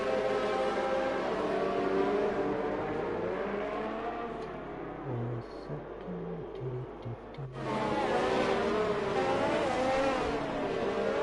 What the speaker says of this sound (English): That's Jonathan there in his Ferrari.